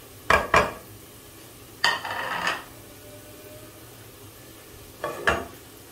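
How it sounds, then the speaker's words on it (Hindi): Dal tempering with cumin in a pot, heard as three short bursts of sizzling and a metal spoon stirring and scraping, separated by quiet pauses and free of speech. "ये दाल को तड़का लगा रहे हैं"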